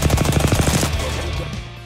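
Rapid automatic gunfire in an Apex Legends battle royale match, a fast loud burst of shots for about a second that fades into a low rumbling tail.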